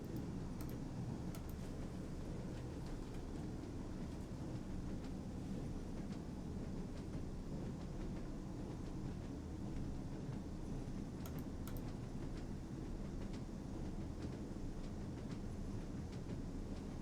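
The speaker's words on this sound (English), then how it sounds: "Just hearing the clicking as we drive over the different track joints there." Rail wheels click over track joints on a train in Train Sim World's Northern Trans-Pennine route, a steady low rumble with faint rhythmic clatter and no talking.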